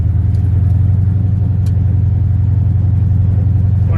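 Car fitted with 4.88 gears and a 46RE transmission cruising on the road toward a race track, a loud, steady low engine drone with road rumble throughout.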